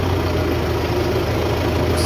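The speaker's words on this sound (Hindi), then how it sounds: "आज ये ट्रैक्टर देख रहे हैं, ये ट्रैक्टर का मॉडल है 2013" An old 2013-model tractor engine idles close by with a steady, loud, low diesel rumble and chugging throb that holds unchanged for the whole two seconds.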